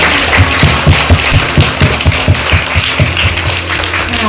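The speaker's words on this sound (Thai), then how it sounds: "เด็กๆขอเสียงปรบมือให้กับคณะทีมวิทยากรค่ะ" Schoolchildren at a rural Thai school applaud a visiting team of speakers, a loud, dense wash of clapping with a pulsing low rumble running beneath it throughout.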